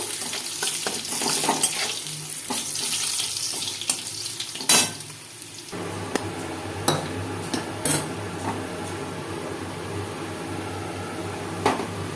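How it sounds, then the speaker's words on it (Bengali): Crushed garlic frying in oil, a steady sizzle with metal utensil clinks and pan knocks scattered through it, brief sharp clatters standing out. "রসুন থেতো একটু ভেজে নেবো"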